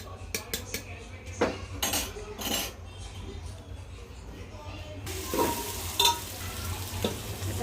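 Onion sautéing with ginger garlic paste for paneer biryani: soft sizzling under scattered spoon clinks and scrapes, growing to a stronger hiss in the second half, with brief quiet speech.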